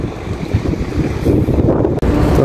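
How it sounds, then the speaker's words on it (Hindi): Strong gusting wind in Medina, Saudi Arabia, buffets the microphone in a loud, continuous rumble, with a brief dropout near the end. "हवा देखे कितनी तेज़ हवा चल रही है मदीना में आज, बहुत तेज़ हवा है"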